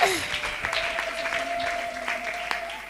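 A church congregation claps together in praise to God, a steady dense wash of applause that holds at an even level throughout, with a faint sustained tone running beneath it.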